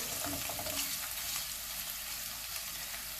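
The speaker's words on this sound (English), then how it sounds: "we're gonna add this beautiful pork. Break it apart. Let them get a chance to cook." Pork frying in a pan for mapo tofu, a steady loud sizzle with some stirring scrapes, close and continuous, with no talking.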